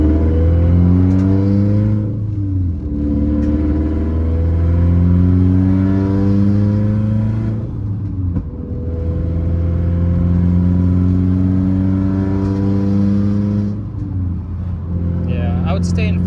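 A 2015 Subaru WRX STI (VA) at Stage 2+ with an external wastegate tune pulls hard in sport mode, its loud engine climbing in pitch through gear changes with brief lifts between pulls.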